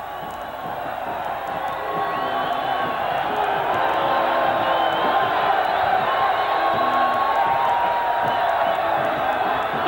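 Football fans cheer loudly in a stadium at a Mineiro Segunda Divisão match between URT and Mamoré, a dense crowd roar with whoops and shouts rising slightly and holding steady throughout.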